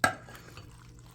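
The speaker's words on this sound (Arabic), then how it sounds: "هنقلب بقى كل المكونات على بعض" A spoon scrapes and clinks once against a pot while green beans, meat, onion, garlic and tomato sauce for a tagine are stirred together, a single sharp knock followed by a faint soft shuffle.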